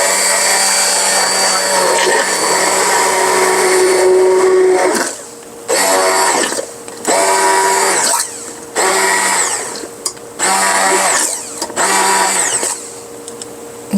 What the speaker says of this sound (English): I'm going to use my Emotion blender for a few minutes on this, and kind of break it up a little bit.